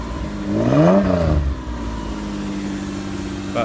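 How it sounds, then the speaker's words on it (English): A Toyota 1MZ-FE V6 swapped into an MR2 is revved once, rising and falling sharply. It then drops back to a steady idle heard up close, with no talking. "Sound is probably the most impressive thing about the V6 swap."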